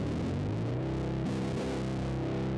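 A distorted guitar power chord, doubled with a copy pitched down an octave and run through Decapitator distortion, rings as a loud, dense, heavy sustained chord with a sliding pitch change midway.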